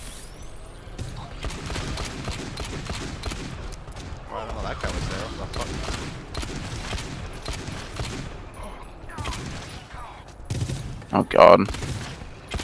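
Gunfire in the co-op shooter GTFO rattles in rapid bursts and volleys across the clip, layered with game effects, with a loud cluster of shots near the end and players talking over it.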